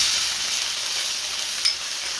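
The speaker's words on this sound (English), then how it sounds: "So those onions are just starting to caramelise now. Let's add ginger and garlic paste." Onions frying low and slow toward caramelising, with ginger garlic paste stirred in for a vegan Durban-style bunny chow curry: a steady soft sizzle throughout, with one brief bright hiss near the end as the paste hits the pan.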